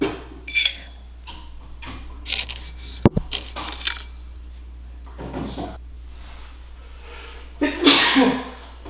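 A single sharp sneeze bursts out near the end, preceded by scattered kitchen clatter and faint background knocks.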